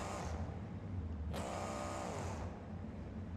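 In the BeamNG video game, a monster truck engine runs with a low rumble and then flares into a brief rising rev that quickly fades back down. The sound is moderate in level and heard alone.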